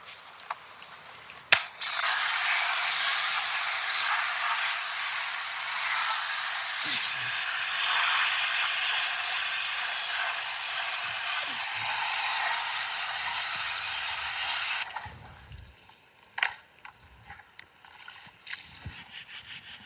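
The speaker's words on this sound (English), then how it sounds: "We'll jet wash the arch." A pressure washer jet blasts a car wheel arch on a Jaguar XKR for a long, steady, loud spray of about thirteen seconds, then stops, leaving faint knocks and handling noises.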